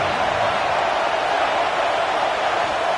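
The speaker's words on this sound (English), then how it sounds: "Here comes the noise from this big crowd in Happy Valley on third down." A big football crowd in Happy Valley roars on third down at a Penn State game against Texas A&M, a loud, dense, unbroken wash of stadium noise filling the whole stretch.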